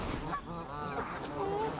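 Geese honk and squabble over food at a park lake, a few short nasal calls over background murmur and someone talking.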